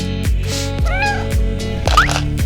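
A cat in a hospital gives several meows, some rising and some falling, over a busy, noisy background with repeated low thumps.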